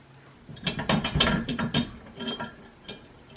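Ratcheting wrench tightening a bolt while a trailer hitch is installed on a Toyota Matrix, a quick burst of clicking ratchet strokes, fairly close, then a few fainter clicks trailing off.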